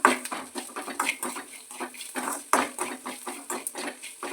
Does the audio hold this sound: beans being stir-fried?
yes